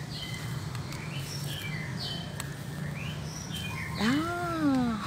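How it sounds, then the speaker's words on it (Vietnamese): Small birds chirp and begin begging to be fed: faint, short high calls repeat at intervals, and a louder sweeping call rises near the end. "Mấy con chim nó hót, nó đòi cho ăn đó."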